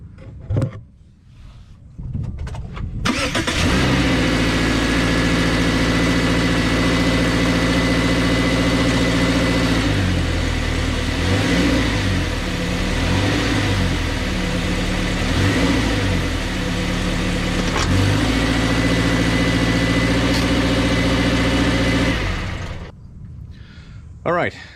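A Subaru Crosstrek fitted with a Rallitek skid plate starts up and idles steadily for about twenty seconds, a close, even engine drone with a few slight rises in pitch before it shuts off.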